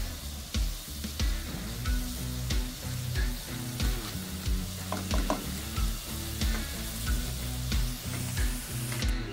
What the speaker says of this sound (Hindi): पालक को हमने पहले मसाले के अंदर थोड़ा सा भून लेना है ताकि पक जाए